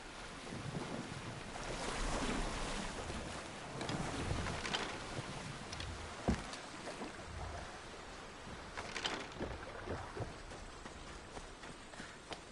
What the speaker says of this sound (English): I don't think I should brave that water in this boat.